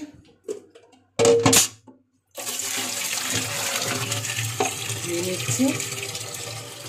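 Tap water runs steadily in a home kitchen sink while items are washed under it, a continuous close splashing rush that follows a few brief clatters and knocks.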